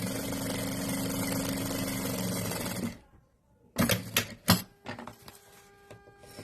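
A sewing machine fitted with a center-hole zipper foot runs in one sustained mechanical whir, stitching close to a zipper on a pouch, then stops and a few louder clunks and handling knocks follow.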